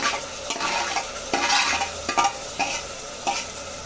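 Tomatoes frying in oil in a pan of chicken curry while being stirred, a steady close sizzle broken by repeated scraping strokes of a spoon, with no talking.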